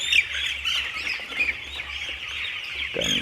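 A flock of poultry chickens held on a ground-floor farm for their 12-day eye-drop vaccination chirps and clucks in a steady, dense chorus close by, with a louder squawk near the end.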